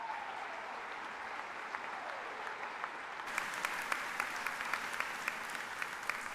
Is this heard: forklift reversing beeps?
no